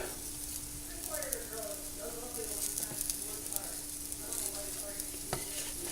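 Buffalo cauliflower sizzles in a pan, a steady frying hiss broken by clinks and scrapes as pieces get flipped, with a voice speaking briefly over it.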